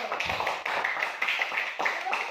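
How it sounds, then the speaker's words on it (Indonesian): Classroom clapping for a pupil during a religious education lesson, a short run of scattered hand claps from a small group, fairly close, with children's voices mixed in. "tepuk tangan untuk Rian dulu"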